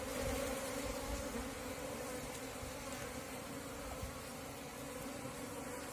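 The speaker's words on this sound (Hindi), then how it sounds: "मधुमक्खियां सारी टोकरी में" Apis cerana honeybees swarm into a basket, and their dense, continuous buzz holds loud and close throughout with no voices.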